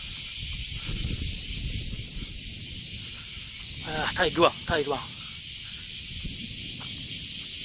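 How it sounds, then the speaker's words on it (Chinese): Summer cicadas drone in a steady high-pitched chorus outside a closed-down European-style restaurant in Harima, Japan, with someone talking briefly over it. "蝉鸣。"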